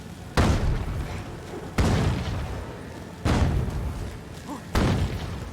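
Four heavy bomb blasts in The Witcher 3 video game, spaced roughly a second and a half apart, each a sharp loud boom trailing into a rumbling decay.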